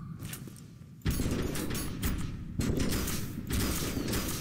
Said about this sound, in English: This guy needs a nail gun to the face.